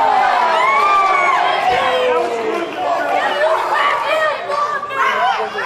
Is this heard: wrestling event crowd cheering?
yes